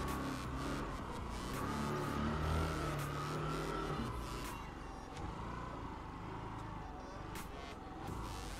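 A Kawasaki Z900 motorcycle climbing a slope toward a house at the end of a lane, its engine droning steadily at moderate distance with rises in revs, no talking.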